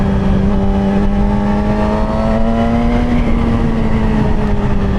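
A 2007 Yamaha R6 motorcycle engine accelerating while riding, a loud steady drone with a slowly rising pitch heard close up over rushing wind noise.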